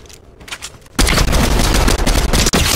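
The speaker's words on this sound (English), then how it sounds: "Bro was trying to shoot me with a shotgun." Shotgun fire in the Fortnite video game arrives as a sudden loud burst of rapid gunfire after a quieter opening, dense and continuous with sharp repeated cracks for almost two seconds.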